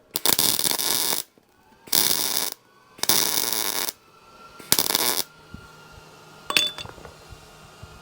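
Arc welding on a rusted cab corner of an old Ford OBS truck outdoors in wind, heard as four loud crackling bursts of about a second each with short pauses between them, then quieter clinks and scraping.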